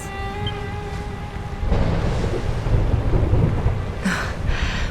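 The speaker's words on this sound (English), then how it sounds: "Would you look at it thundering away out there?" Thunderstorm in the video game Dragon Quest XI: a deep, broad rumble of thunder swells after a soft tonal passage and holds steady, with a brighter crackling burst near the end, loud and close with no voices.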